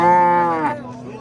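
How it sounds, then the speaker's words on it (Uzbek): At a livestock market a cow lets out one loud, close, drawn-out moo that fades at the end. "Yana bir juda chiroyli sigir."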